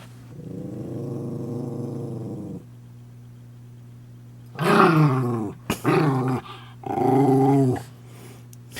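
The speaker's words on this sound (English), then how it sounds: "All the growling, all the time." Two pet dogs growl while playing indoors, a long low rumbling growl followed after a pause by louder, choppier bursts of snarling growls, close and alone.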